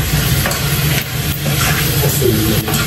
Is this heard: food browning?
yes